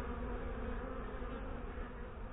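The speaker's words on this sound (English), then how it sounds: "there's that wasp that's trying to get into that hive over there again" Honey bees and a yellow jacket wasp buzz steadily at a hive entrance, a dense, close, continuous drone.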